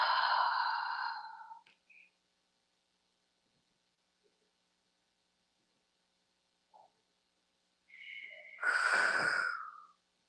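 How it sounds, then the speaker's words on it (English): Slow, deep breathing during a Tai Chi exercise: a long, close breath at the start, quiet in the middle with a few small stirs, then another long, full breath near the end. "Nice deep breaths."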